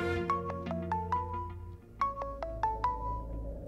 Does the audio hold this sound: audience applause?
no